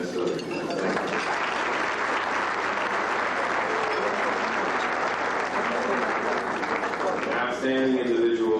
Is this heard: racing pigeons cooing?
no